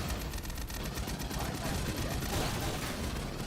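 Sentry guns firing in the video game Aliens Fireteam Elite, a rapid, continuous rattle of automatic gunfire that stays fairly quiet and unbroken throughout.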